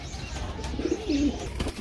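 A pigeon gives a low, soft cooing call, brief and close, against faint background noise.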